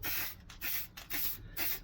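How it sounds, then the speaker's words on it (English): Spray bursts coat plywood scroll-saw pieces for a Rubik's Cube wall art project: four short hissing blasts in a steady rhythm, close and fairly loud, with brief gaps and no talk. "we'll continue spraying these and the back"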